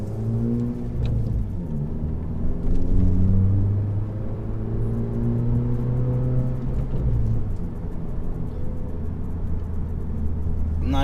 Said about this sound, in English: I'm not sure if you guys can hear the drone inside of the car or not